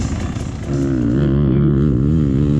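Enduro dirt bikes ripping around a race track at a sprint enduro round on Boswell Farm in Greensboro, Georgia, with a loud, near engine wailing and rising and falling as the rider works the throttle.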